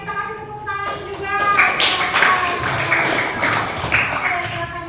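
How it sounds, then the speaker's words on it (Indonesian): Students applauding in a classroom, a burst of clapping that swells through the middle of the clip, with a voice and room noise before and after. "kita kasih tepuk tangan juga"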